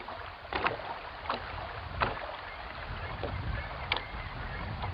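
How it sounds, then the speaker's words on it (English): Waves wash steadily onto a shore in the 1990s video game Myst, a continuous broad surge with soft swells rising and falling over it, heard alone at moderate level. "You can hear waves rushing to the shore,"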